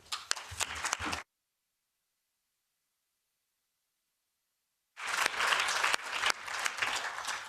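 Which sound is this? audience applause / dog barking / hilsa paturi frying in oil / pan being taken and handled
audience applause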